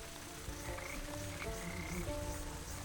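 Frogs croak in the video game Wytchwood, several overlapping ribbits and trills in a soft outdoor chorus, faint and steady with no voices over them.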